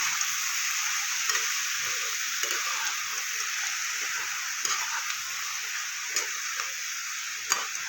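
Beto greens and fried lentil dumplings tossed in a frying pan, a steady sizzle running throughout under irregular spatula scrapes and light knocks against the pan, close by.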